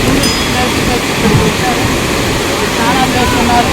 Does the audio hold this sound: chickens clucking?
no